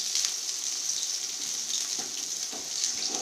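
Onions sautéing in a pan for Chicken Pallipalayam give a faint, steady hiss of sizzling oil, soft and continuous throughout with no voices.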